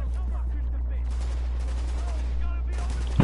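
Rapid bursts of gunfire in Tom Clancy's The Division ring out steadily under a constant low hum, with a louder sharp burst near the end.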